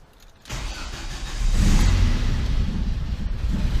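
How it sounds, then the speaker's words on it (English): Cold start of a Ford Transit van engine fitted with a MaxxECU mini on a 300HP build and a freezing cold engine: quiet at first, then the engine cranks and catches at about half a second, rising to a loud, steady idle. "Cold start on the van."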